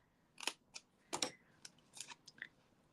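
Several crisp snips of scissors cutting a small paper piece for a banner, irregular close cuts spaced across a few seconds, quiet and alone.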